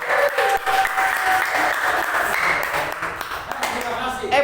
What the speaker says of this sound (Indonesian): kita berikan aplaus buat kelompok ini